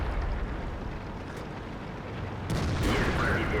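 A tank gun shot ricochets off armor in World of Tanks, a loud booming blast over rumbling engine noise that swells sharply partway through.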